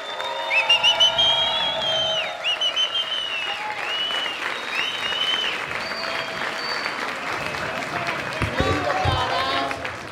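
Studio audience on a Colombian talk show bursting into applause, cheers and whistles to welcome MasterChef judge Jorge Rausch; loud dense clapping runs throughout with sharp whistles and shouts riding on top.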